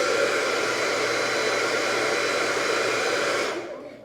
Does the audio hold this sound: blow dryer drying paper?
yes